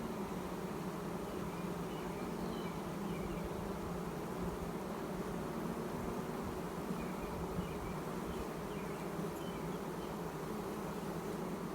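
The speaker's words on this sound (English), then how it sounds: "these bees are completely unaware of anything about me being here" A dense, steady buzz of many honeybees feeding at a patty in a hive, close by and continuous, with no pauses or other sounds breaking through.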